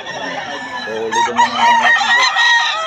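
Roosters crow loudly and close at a gamecock sale, with harsh overlapping crows and clucks, while someone talks over them.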